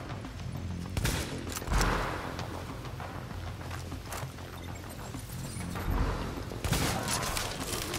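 Rapid bursts of gunfire in The Division video game crackle amid a busy, noisy mix, with a few louder volleys standing out near the start and end.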